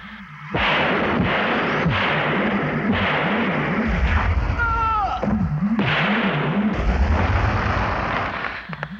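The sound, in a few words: gunfire in a monster movie scene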